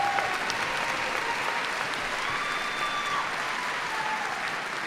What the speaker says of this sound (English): Let's give Brooke and Meet another warm round of applause.